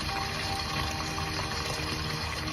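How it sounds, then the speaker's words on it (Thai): Kitchen tap left running into a bowl to rinse mung beans, a steady, loud, close gush of flowing water without pause. "เราก็ เปิดน้ำยาวเลยค่ะ ให้น้ำเขาไหลออกไปเรื่อยๆ นะคะ"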